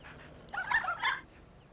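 A Nintendogs video game dog gives a short whimpering yip, two quick high-pitched cries in the middle over a faint background hum.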